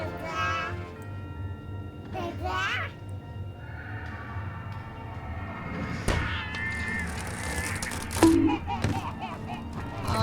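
A cat meows and caterwauls in long, wavering cries behind a person talking indoors, with a few soft thumps, the yowls rising over the talk several times.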